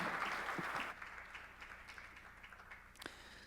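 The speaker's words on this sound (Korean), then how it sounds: "우리 집사님 나오시길 박수로 맞아 주십시오." Applause from a church congregation at a New Year's Eve worship service, a dense burst of clapping for the first second that then thins into scattered, quieter claps in a reverberant hall.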